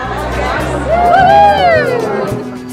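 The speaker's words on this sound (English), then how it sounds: "The crowd are having a cracking time." A lively bar crowd chatters in a dense, close babble of voices, with one tonal voice rising and falling above the hubbub.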